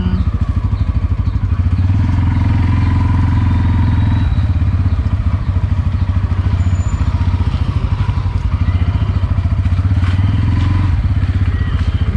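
A Bajaj Pulsar N160 motorcycle engine idles loudly and steadily nearby, its rapid thumping putter running throughout with occasional light clatter.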